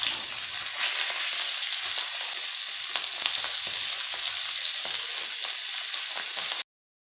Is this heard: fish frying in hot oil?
yes